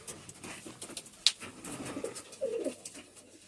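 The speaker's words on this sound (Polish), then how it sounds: "No wszystkie trzy to są młode gołębie tutaj" Soft, low pigeon cooing, several short throaty coos in an uneven run, close by, with a brief sharp chirp partway through.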